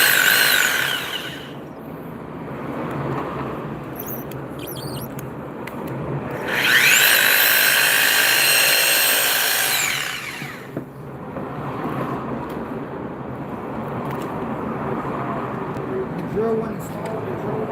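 A Milwaukee power drill whines loudly in a sustained burst for a few seconds, drilling anchor holes into a foundation, with quieter workshop noise and scattered voices before and after.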